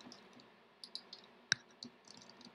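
Someone types a command on a computer keyboard, giving a few faint, sparse key clicks with one sharper tap, close and quiet, with no talk.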